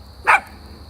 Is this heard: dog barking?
yes